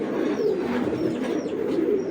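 A racing pigeon coos in low, continuous murmurs while being held and struggling in the hand, close and moderately loud, with faint higher chirps from other birds nearby.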